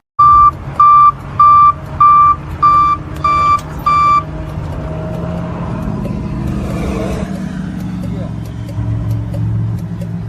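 A tow truck sounds its reversing alarm in seven loud, evenly spaced beeps, then its engine rumbles on steadily at close range as the beeping stops.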